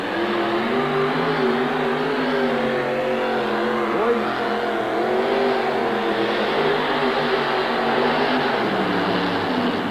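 Gary Collins's Budweiser Avenger funny car puller, powered by a blown Keith Black engine, runs loud and sustained at a tractor pull, a dense unbroken engine roar with slight pitch shifts throughout.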